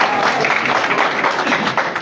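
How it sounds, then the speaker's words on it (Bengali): Applause at an awards ceremony marking the 21st founding anniversary of a Bangladeshi national daily newspaper, where a woman journalist is honoured; steady crowd clapping rolls continuously throughout, fairly loud and dense. "এটি করতালি হবে"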